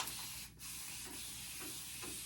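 Short, soft spray hisses from an aerosol can of hair spray, a few quick bursts close up in an otherwise quiet room.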